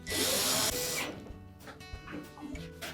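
Power driver running retaining screws into the plastic inner tub base hub of a GE washer, a loud continuous whir for about a second followed by shorter, quieter bursts of driving and clicking, with faint talk in the background.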